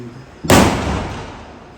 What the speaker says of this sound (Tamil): பட்டாசு வெடிக்கிறோம்லாமா.